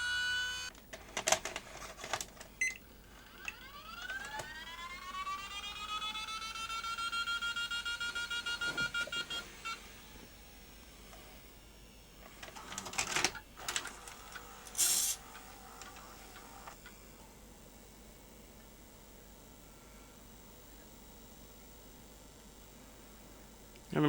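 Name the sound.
Panasonic S-VHS video recorder running after repair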